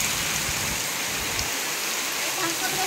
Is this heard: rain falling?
yes